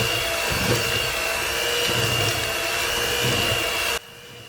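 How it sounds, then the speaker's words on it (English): Electric hand mixer whirring steadily at a low-to-rising speed while beating softened sweet potato cubes for a pie, a continuous close motor drone that cuts off abruptly near the end. "because I've never used this mixer before, so I'm on number 2. But I'm going up now"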